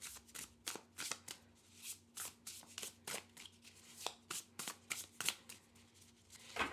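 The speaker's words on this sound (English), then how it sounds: "So let's see how it overhand shuffles." A tarot card deck being overhand shuffled, with a steady run of quick papery slaps and riffling bursts, close and crisp, no talking.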